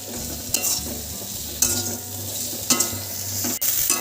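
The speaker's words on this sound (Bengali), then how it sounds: "এবার হলুদ আর নুন দিয়ে আলুটা একটু কিছুক্ষণ ধরে ভালো করে কষিয়ে নেব।" Potato pieces frying with turmeric and salt in a pan, a steady sizzle under repeated scraping stir strokes from a spoon, several sharp clinks against the pan, close and with no talking.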